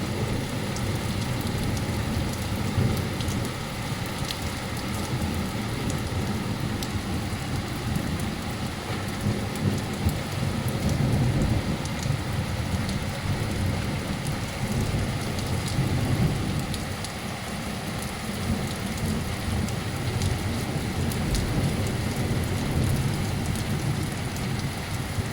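A very active thunderstorm over Anstey pours steady heavy rain with hail mixed in, a dense continuous wash of falling water and low rumbling thunder throughout, with no voices.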